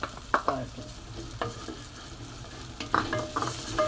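Garlic frying in a pan for palak paneer is stirred with a utensil, giving intermittent scraping strokes and clatters over a low, steady sizzle, close and fairly loud.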